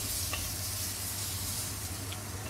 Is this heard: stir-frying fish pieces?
yes